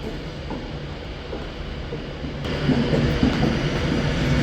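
A double Transport for Wales train moves through Stockport station with a steady rolling rumble and faint wheel clicks, growing louder partway through.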